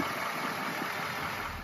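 A 2023 Chevrolet Silverado 2500HD with the 6.6-liter Duramax diesel V8 idling, a steady, even engine drone heard up close with no talking.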